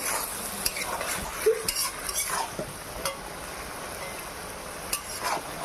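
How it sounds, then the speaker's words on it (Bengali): Cabbage and fish head curry stirred in a pan, soft sizzling under scattered spoon scrapes and light clinks, close and fairly quiet with no speech. "আর একবার এটাকে নেড়ে দেবো"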